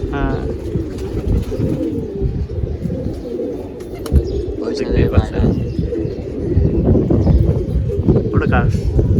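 Pigeons cooing at a pigeon loft, including a male bird, with steady low coos and a few chirps under continuous loud chatter and people talking close by.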